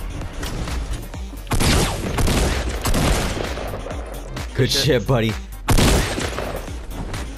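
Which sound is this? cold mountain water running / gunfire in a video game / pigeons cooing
gunfire in a video game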